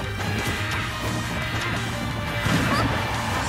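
Up smash attack landing in Super Smash Bros. 4 during a tournament match, a sharp crashing hit over a dense, constant backdrop of game sound and crowd noise.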